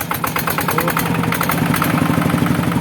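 A loud, rumbling Yanmar TF 115 LM diesel engine runs steadily close by with a throbbing idle and rough mechanical clatter throughout, no clear rise in pitch.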